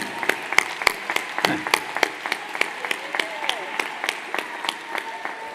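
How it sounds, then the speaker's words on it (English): Graduation audience at a design school gives a round of applause for teachers and staff, sharp irregular claps from a moderately sized crowd filling the hall steadily, with faint voices mixed in. "I'd like to give one more round of applause to the fabulous teachers and staff"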